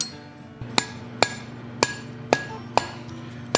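Hot steel is hammered on an anvil while a snake-shaped candle holder is forged, with six sharp, ringing metallic strikes at a steady, slightly uneven rhythm, close and loud, and no talking.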